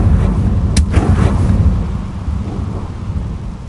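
A fiery Confringo spell blast in Hogwarts Legacy bursts with a loud booming crack, then rolls off into a rumbling, crackling roar that fades slowly over several seconds.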